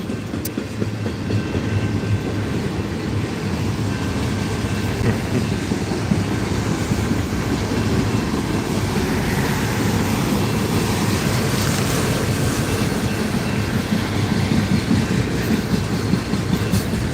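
An Iowa Northern train rolls past in Burton and Flint, Michigan, a loud steady rumble of rail cars with dense wheel clatter sustained close by throughout, with no talk over it.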